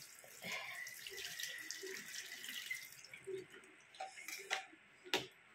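A large mango washed by hand under a running kitchen tap, water splashing and trickling steadily into a sink with small knocks and drips near the end, close and quiet.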